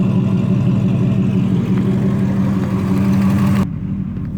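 A 1989 Cadillac sleeper engine runs loud and close, a steady deep rumble that drops off abruptly near the end to a lower idle.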